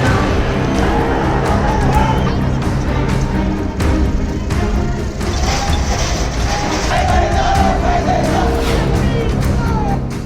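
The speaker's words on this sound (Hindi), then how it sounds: "नेपाल की सड़कों पर सिर्फ भीड़ नहीं है, ये गुस्से की लहर है।" An angry Gen Z protest crowd fills the streets in Nepal, a loud and dense roar of many voices with shouts and yells rising out of it, sustained and continuous the whole time.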